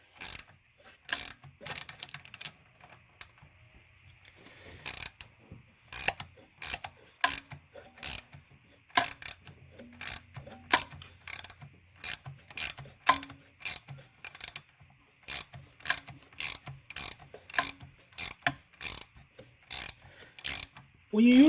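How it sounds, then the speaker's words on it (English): Sharp repeated ratcheting clicks from an AGA N62 valve spring tool decompressing a valve spring on cylinder 2 of a 2006 BMW 750i, loud close bursts coming in a steady series with short gaps between them. "Now I'm gonna decompress the spring again."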